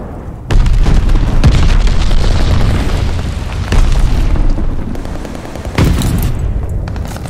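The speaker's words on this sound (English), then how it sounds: "Enemy's got a glide bomb incoming." Glide bomb blasts in Call of Duty: Vanguard: loud, booming explosions with rumbling bursts and crackling debris, several heavy impacts hitting in succession amid continuous battlefield gunfire noise.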